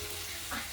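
Garlic, shallots and ginger fry in hot oil for ginger pickle, a brief, faint sizzle with a small rise in hiss near the end.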